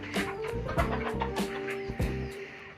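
Several hybrid chickens on a rooftop farm cluck close by in short repeated bursts as they feed, overlapping one another against quiet background noise.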